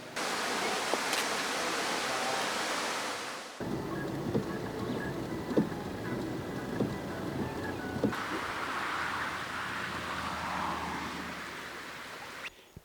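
Heavy rain pours down steadily in a broadband hiss that shifts in loudness as the position changes, with scattered drips and splashes and no one talking.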